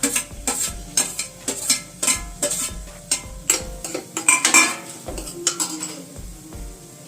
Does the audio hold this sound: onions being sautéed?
yes